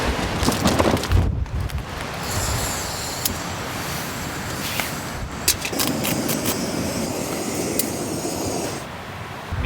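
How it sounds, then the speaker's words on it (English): Wind gusts through tussock grass outside a tent during a snow and rain storm, a broad rushing hiss that swells and eases steadily, with scattered small flaps and ticks from the shelter. "You hear the wind gushing just outside my setup through the tussocks."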